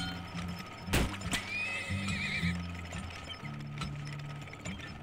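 Horses in the oil-drilling video game Turmoil whinny over a steady clip-clop of hooves, one loud neigh near the start and another rising call a moment later, with game ambience underneath.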